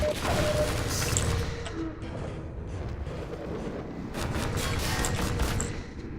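Enemy gunfire cracks at the player in Half-Life 2: Episode One, dense bursts of shots in two loud volleys separated by a brief lull, with booming impacts underneath.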